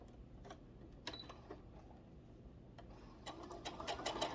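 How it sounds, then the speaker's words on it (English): Sewing machine stitching fabric, a faint steady mechanical whir with scattered ticks that grows busier and louder toward the end, heard alone without talk. "Do not let sewing intimidate you."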